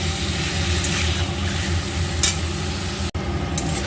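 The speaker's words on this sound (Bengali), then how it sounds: "চিংড়ির সাইজটা একটু বড় আছে এখানে কিন্তু একটু ভালো করে কিন্তু কষিয়ে নিতে হবে" Large prawns sautéing in a pan, a steady close sizzle with scraping stir sounds and a brief dropout near the end.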